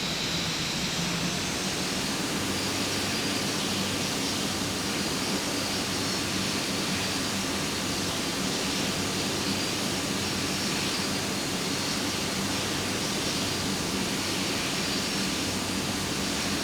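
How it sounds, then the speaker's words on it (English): Simulated Boeing 787-9 jet engines roaring during a high-speed taxi down a runway in the FS9 flight simulator, a loud, steady broadband whine and rumble that holds constant throughout. "we will do a high-speed taxi down runway 13 right"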